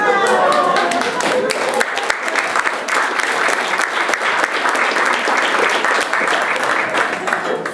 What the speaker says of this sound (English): Clap if you would tell them